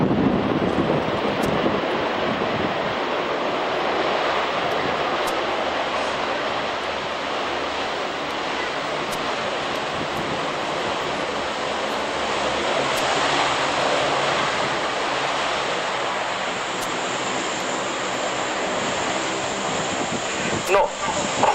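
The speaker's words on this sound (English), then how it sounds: "that's the C-130 Hercules, Fat Albert, or Albert of Arabia" A C-130 Hercules transport aircraft flying a display pass at an RAF airshow, a continuous loud broadband engine roar mixed with wind noise that holds steady throughout, with a commentator talking over it.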